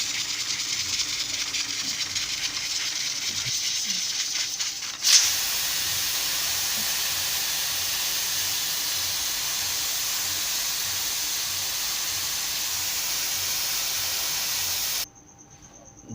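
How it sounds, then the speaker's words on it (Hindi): A pressure cooker used for moong dal vents steam in a loud, continuous hiss that kicks in after a few seconds of quiet and stops abruptly near the end. "प्रेशर खोल के।"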